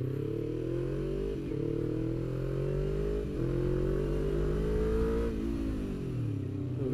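A Kawasaki Ninja 250 engine revving during warm-up at Horizon Beranang Circuit, a loud close buzzing drone that climbs and dips repeatedly in pitch with a few brief pauses, without any talking.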